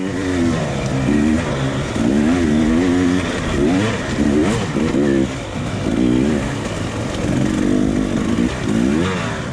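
Hard enduro motorcycle race bike held in first gear, engine revving hard and constantly up and down in close, loud bursts with no letup.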